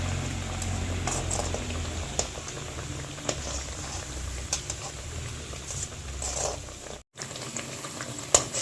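Pathiri fries in hot oil in a tea-shop style kitchen, giving a steady bubbling sizzle with scattered pops and crackles and a short break partway through.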